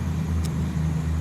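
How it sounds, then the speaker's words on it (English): Interior of a bus on a ride to work, with a low steady engine and road rumble droning continuously, plus a faint brief tick partway through. "I was sitting in the bus to work right now"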